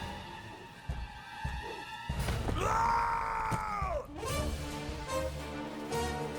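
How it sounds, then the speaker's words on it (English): Enemies in a pirate video game let out a drawn-out wailing scream over a busy game soundtrack and effects, with groaning cries and clanking around it. "I like to hear screams."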